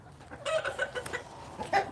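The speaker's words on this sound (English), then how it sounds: "there is some screaming in the chicken coop" Chickens squawk and cluck inside a backyard chicken coop in agitated, uneven bursts, moderately close with no talking over them.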